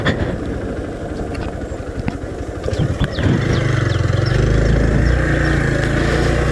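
Hero Xpulse 200T motorcycle ridden off-road, engine rumbling close and steady, with irregular revving and splashing in the first half before settling into a louder, continuous drone.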